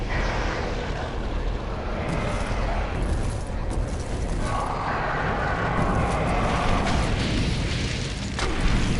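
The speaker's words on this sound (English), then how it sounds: "I'm going to use the rocket launcher." Rocket launcher fire and explosions in a video game, a loud, continuous rumbling roar of booms and blasts layered with mechanical game noise, dense and sustained throughout.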